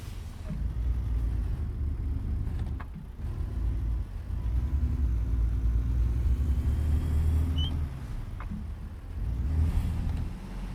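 Simulated heavy truck engine in American Truck Simulator, a steady loud rumble with revving swells and a rough grinding transmission, continuous throughout with no talking.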